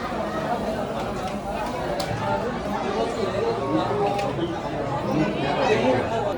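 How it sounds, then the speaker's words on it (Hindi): Dense crowd chatter and hubbub fill the Jwala Devi temple during a festival, a steady murmur of many voices, close and continuous, with no single voice standing out. "तो इसलिए खास भीड़ भी है मंदिर में"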